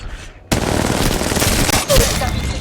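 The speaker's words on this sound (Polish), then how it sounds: "Jestem pod ostrzałem." Automatic weapon fire in the Apex Legends video game bursts in abruptly after a brief quiet moment, then rattles on loud and close as a continuous stream of shots.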